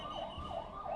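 Ambulance siren wailing in a steady rising-and-falling cycle at a street scene near an Ahmedabad plane crash site, clear and moderately loud over a low background rumble, with no voices.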